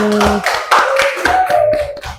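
A small group claps in a classroom lesson on whole numbers, a short burst of close, separate hand claps in a loose rhythm with tonal sounds mixed in.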